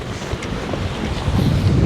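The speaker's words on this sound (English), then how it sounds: "that's like constant wind, and then gusts, which are quite mad" Strong, gusty wind at a camp on a wild night buffets and roars right against the microphone, a constant rumbling rush that swells into louder gusts toward the end.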